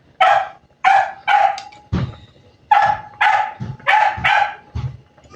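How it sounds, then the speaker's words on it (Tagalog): A dog barks loudly and repeatedly up close, eight or so sharp barks in quick bursts with short pauses between them. "Ay aso namin, tahol lang tahol"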